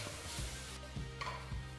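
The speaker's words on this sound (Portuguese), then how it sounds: "E vamos estar refogando tudo junto." Chicken filling with oregano and sweet paprika sautéing in a pan, a soft sizzle broken by a few scraping stir strokes of a utensil, short and close with no speech.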